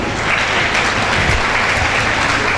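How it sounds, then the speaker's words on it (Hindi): An audience at a public event for a women's education and safety campaign in Amroha, India, gives steady, dense applause, a loud continuous wash of many hands with a little voice underneath. "आपकी तालियों में खुशी हो रही है।"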